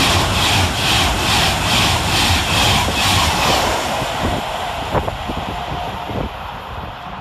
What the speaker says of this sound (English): Coming in the opposite direction for Avanti West Coast is 390-040, working 1 Bravo 41 from Birmingham New Street to London Euston.